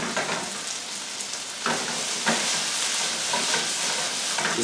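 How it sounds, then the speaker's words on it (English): Tofu fries in a stir-fry pan, a steady loud sizzle and crackle running throughout with a few sharper pops and stirring scrapes, no voices. "We're just warming this through and putting a really nice crust on it without burning it."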